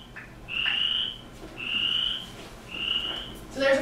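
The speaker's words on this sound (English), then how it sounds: "This is the chorus frog. Sounds like a finger over the top of a comb." A recorded chorus frog call from the Konza Prairie: three rising, raspy trills in steady succession, each about half a second long, fairly close and clear over a quiet background, with a brief different chirp at the end.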